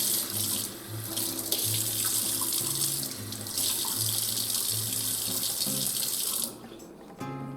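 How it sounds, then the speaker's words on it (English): Tap water runs steadily into a sink as cured salmon gravlax is rinsed under it, a close, loud splashing stream that shifts in tone as the fish is moved, then eases off near the end. "I'll rinse salmon like this."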